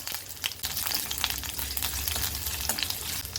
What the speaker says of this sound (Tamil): எண்ணெய் சூடானதுக்கப்புறம் இதில் 2 கிராம்பு, 1 ஏலக்காய் போட்டுக்கிறேன், 1 பச்சை மிளகாய், இஞ்சி, பூண்டு,